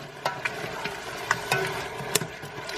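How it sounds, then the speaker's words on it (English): Tomato sauce with minced basil is stirred in a pan for a seafood spaghetti: scattered sharp scraping clicks of the utensil at an irregular pace over a low, steady simmering sizzle, close by and fairly quiet. "Let me stir this."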